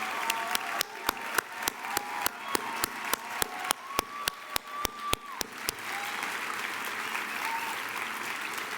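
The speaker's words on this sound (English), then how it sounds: "accept applause from all of us for your leadership" Audience at a university hall of fame induction ceremony clapping, many sharp, evenly spaced claps standing out for several seconds before fading into a softer, continuous patter of applause.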